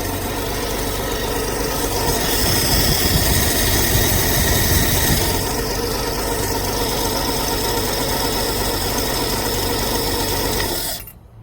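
A 1953 Ford 4x4 engine idles with its newly fitted exhaust, a loud, steady, close rumble with a continuous mechanical clatter that holds evenly until it cuts off abruptly at the end, no voices.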